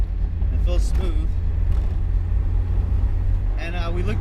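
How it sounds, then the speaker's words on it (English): A Mazda Miata with an aftermarket intake cruising on a test drive, its engine droning steadily with road and cabin rumble throughout, while a voice talks briefly over it. "car's doing good. It's warming up."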